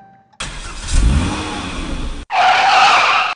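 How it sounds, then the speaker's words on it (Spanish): A 2015 Jeep Cherokee with the 2.4 MultiAir engine, which has lost compression, cranking with a loud, even whir close by. After a brief break the cranking comes back with a harsher, higher-pitched tone. "Ahí está haciendo un ciclo de arranque"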